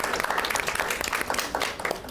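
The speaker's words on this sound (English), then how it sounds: "can we do one round of applause?" An audience at a leadership conference panel applauding, dense overlapping hand claps from many people, steady and moderately loud for the whole stretch.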